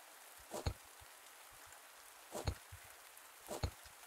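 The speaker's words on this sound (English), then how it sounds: "Oh, it's raining in the cave." Rain falls inside a cave in the game Pumpkin Days, a faint, even hiss broken by three short, louder bursts spaced about a second apart.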